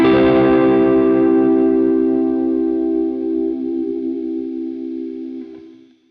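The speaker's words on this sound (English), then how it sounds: "For overdrive sounds, I'm using a NUX Steel Singer, and it works really well as well." A sustained electric guitar chord through a NUX Steel Singer overdrive and a KMA Audio Machines Cirrus reverb, thick with drive and a shimmering chorus-like wash, rings out loudly and slowly fades over several seconds.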